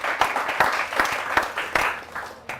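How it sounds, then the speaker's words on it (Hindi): An audience at an Independence Day poetry gathering claps for poet Kamal Agney, a moderate round of applause with distinct individual claps rising and falling over a couple of seconds before trailing off. "एक बार जोरदार तालियां हो कमल आग्ने।"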